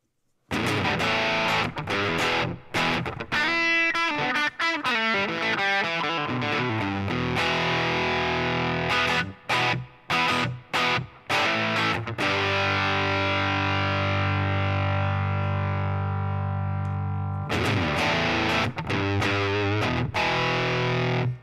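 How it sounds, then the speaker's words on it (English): An electric guitar plays through heavy overdrive distortion, with chopped chords and then a long sustained, fuzzy note ringing out before more strummed bursts. "it sounds like an overdrive pedal"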